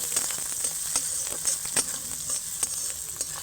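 Chopped onions and beans fry in a pan for a chire pulao, a close, steady sizzle with small pops and occasional stirring scrapes, no voices.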